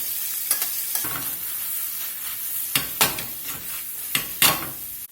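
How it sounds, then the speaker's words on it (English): Onions with a pinch of salt sweating in a pan for a brisket dinner, a gentle continuous sizzle broken by several sharp scrapes of a utensil, close and fairly loud. "We're just going to let these onions kind of sweat here a few minutes until they start to soften up."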